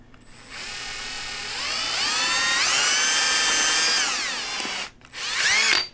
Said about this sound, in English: it really don't take much at all to drill right through that little bone